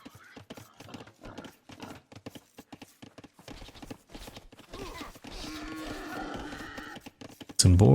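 Rapid clip-clop of Hunnic horse cavalry hooves in Age of Empires II, a quick, light patter under occasional animal lowing, with a sudden loud burst near the end.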